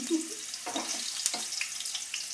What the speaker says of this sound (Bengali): আলুগুলো ভাজা হয়ে যাক